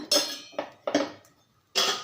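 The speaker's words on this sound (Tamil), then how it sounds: "இப்போ நான் அந்த அப்ப சட்டியே வச்சுக்கிறேன்" A metal appam pan set down on a stovetop while preparing adai, giving a few sharp clanks and clinks, close and fairly loud, in separate bursts with no talking.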